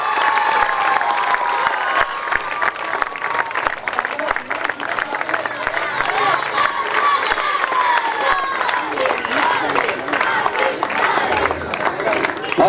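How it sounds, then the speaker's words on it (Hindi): A crowd at a cricket league final on a ground claps loudly and continuously to welcome two players, mixed with cheering and children shouting, a dense, unbroken roar of applause that stays strong throughout. "राजा और अली का जोरदार तालियों के साथ स्वागत किया जाए"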